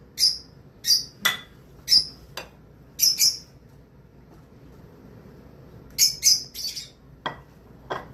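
Sharp, shrill parrot squawks come in bursts, a handful in quick succession, pause, then another cluster, over a quiet room hum.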